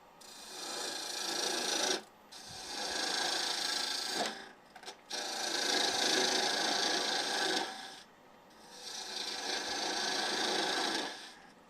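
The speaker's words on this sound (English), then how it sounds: "Let's try the ball gouge on there." A ball gouge cuts wood on a lathe while turning a wine glass base, giving a steady rasping hiss in four long passes separated by short pauses, fairly close and moderately quiet.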